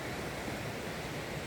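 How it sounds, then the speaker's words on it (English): Waterfall on a countryside walk gives a constant, even rush of falling water, a broad hissing roar that stays steady and fairly soft throughout with no voices over it. "There's the waterfall behind us here."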